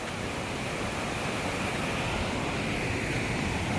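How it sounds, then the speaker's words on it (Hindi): A waterfall on a mountain trek toward Shrikhand Mahadev roars as a steady, dense broadband rush, loud and unbroken throughout, with no voices over it. "और अभी देखो झरना कितना मस्त है।"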